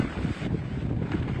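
Strong hurricane wind roars steadily across the microphone in a continuous, loud broadband rush with buffeting gusts, no voices heard.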